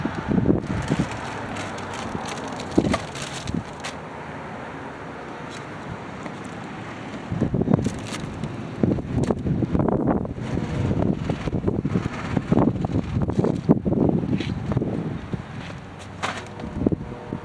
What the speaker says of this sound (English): it is windy and cold out here